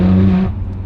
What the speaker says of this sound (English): Downshift next to the wall.